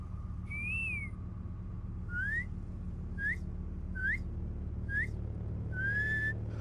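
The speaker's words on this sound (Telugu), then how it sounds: "రేడియోలో విజిల్ కొడతావు కదా, ఇప్పుడు కొట్టు." A person whistles a series of short rising, upward-sliding notes, six or so spaced about a second apart, clear and fairly close over a steady low background hum in a Telugu film scene.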